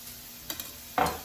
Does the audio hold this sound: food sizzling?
yes